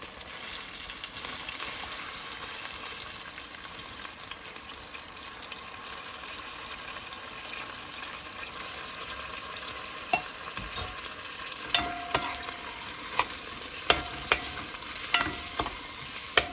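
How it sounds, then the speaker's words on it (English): Rice frying in oil with seasoning for a bean and rice dish, a steady soft sizzle throughout with occasional sharper clicks and stirring scrapes toward the end, no talking. "The rice has to fry in with the oil and the seasoning."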